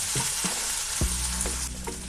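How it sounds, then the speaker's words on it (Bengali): Onions with garlic and ginger paste fry in a pan for a fish jhal, a steady loud sizzle broken by a few sharp scrapes and stirs. "এবার একটু কষিয়ে নিতে হবে।"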